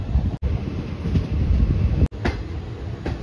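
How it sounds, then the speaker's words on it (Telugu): Tirupati Express running on the rail line, a steady loud rumble and rattle of the moving carriages heard from on board, briefly cut by two sharp dropouts. "ట్రైన్ కూడా కరెక్ట్గా ఆ టైంకి వచ్చింది"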